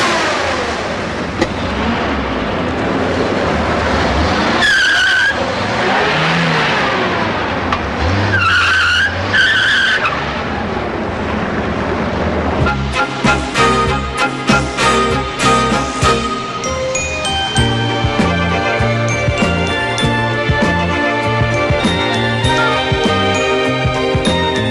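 Car speeding off with loud tyre squeals and skidding, engine roaring and revving throughout, close and intense, followed by a busy stretch of racing engine noise and music-like tones.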